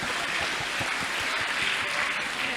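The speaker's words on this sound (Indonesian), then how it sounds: "Oke, boleh tepuk tangan dulu buat Monica." Audience applauding for Monica during a health talk session, a steady dense wash of clapping held at an even level throughout.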